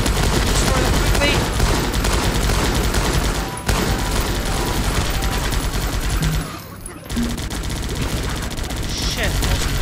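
Dense, continuous gunfire from the tactical strategy game Guns Up!, with overlapping rapid volleys and machine-gun bursts filling the whole stretch. The shooting briefly dips around the middle before resuming at full loudness.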